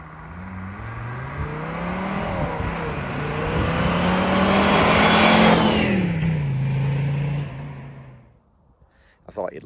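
A Mercedes diesel car with a loud, fruity exhaust accelerates past, its engine note rising and swelling as it nears, peaking loud mid-pass and fading away before brief talk at the end.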